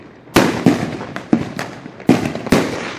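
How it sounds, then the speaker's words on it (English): Residential fireworks burst directly overhead above a house: about six sharp, loud, close explosions in quick irregular succession, each with a short crackling tail and no talking. "That's literally over our... Just over our house. Dang it. Damn, that's really loud."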